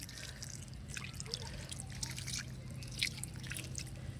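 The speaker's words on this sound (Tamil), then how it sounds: "இப்போ இதுக்கு மேலே கொஞ்சம் தண்ணி தெளிச்சுக்கலாம்" Light water sprinkling and dripping onto compost, soft irregular patters close by over a low steady hum, with no talking.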